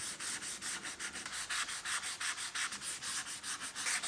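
Steady rhythmic sanding of a carved walnut wood plate by hand, quick back-and-forth rubbing strokes, close and fairly quiet, with no talking.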